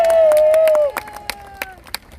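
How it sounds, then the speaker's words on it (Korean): Applause from a lecture audience in a Korean talk-show setting: a held whistle-like tone fades out, then scattered hand claps continue at a moderate level. "다시 박수 한번 주시죠"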